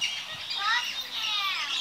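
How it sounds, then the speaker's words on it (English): A captive barking owl calls with short high chirping, warbling notes over a little under two seconds, close and clear, with faint background murmur. "it is a barking owl"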